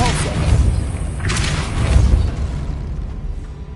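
A Depulso spell cast in Hogwarts Legacy lands as a deep, punchy boom with a short whooshing burst, followed by a rumbling thud and a fading tail, loud and close.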